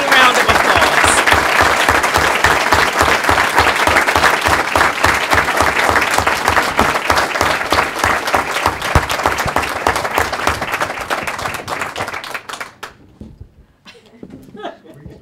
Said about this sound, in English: Now let's give them one huge rousing round of applause.